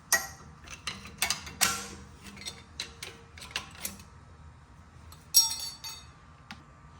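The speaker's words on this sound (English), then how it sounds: "So let's take this clip off first." A brake clip is pried off the caliper of a 2005–2011 Audi A6 Quattro, giving sharp metallic clicks and clinks spaced irregularly, close and fairly quiet, with no talking.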